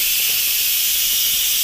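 Steam hisses steadily from an Instant Pot pressure cooker releasing pressure while cooking beef stew, a loud, close, continuous broadband rush with no talk over it.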